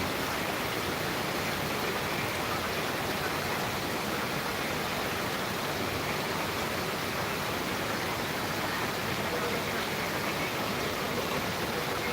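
Heavy rain pours steadily in Jatrabari, a dense, even roar of broadband hiss that holds constant throughout with no voices.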